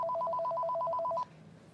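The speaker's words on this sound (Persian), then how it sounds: "تلفن با تو کار داره." A telephone rings indoors with a rapid warbling electronic trill, repeating in quick pulses for over a second before cutting off abruptly and leaving a quiet room.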